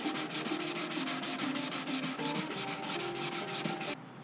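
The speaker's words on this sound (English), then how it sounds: "I've been sanding." Steady rhythmic hand sanding of a Mazda Miata car panel, quick repeated back-and-forth rasping strokes, close and continuous, stopping just before the end.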